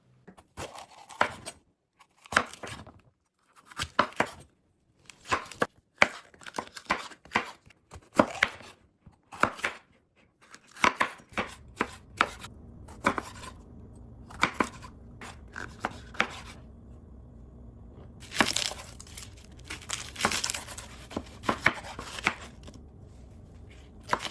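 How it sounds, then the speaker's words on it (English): Knife chopping culantro, cilantro and vegetables for Puerto Rican sofrito on a cutting board, quick irregular bursts of close, crisp chops with brief pauses, later a denser run of rapid chopping. "I got my veggies nice and clean and fresh and ready to be chopped up"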